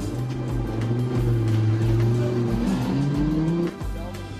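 Race cars roar past in Gran Turismo 5 during a 24-hour race featuring Audi R8 LMS and Porsche GT3R Hybrid machines, loud engine tones rising and shifting with a gear change near the end.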